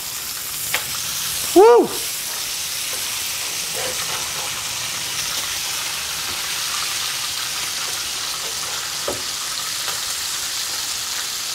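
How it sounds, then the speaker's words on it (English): Bacon, a whole pound cooked together, sizzles steadily in a pan with a brief louder scrape or flap as it is flipped, and a voice cheers once. "I'm going to try and flip my bacon."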